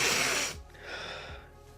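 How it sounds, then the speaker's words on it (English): A person breathes loudly and close into a microphone, a heavy rushing exhale followed by quieter airy breaths with a couple of low puffs. "Does anyone hear him breathing?"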